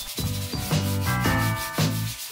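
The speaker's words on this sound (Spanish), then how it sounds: "Y lijaré toda la parte blanca, así la pintura se pegará mejor." Fine sandpaper rubs back and forth over an old chalkboard in steady, rhythmic strokes, close up, about five passes with no voices.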